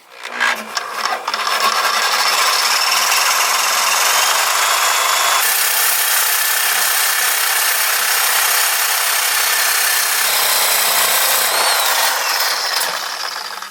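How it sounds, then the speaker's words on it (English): A Sawzall reciprocating saw cuts through the exhaust pipe of a JL Jeep Wrangler during a Magnaflow exhaust install, giving a loud, steady rasping buzz up close that runs for over ten seconds after a few brief starts. "So we now have our Sawzall"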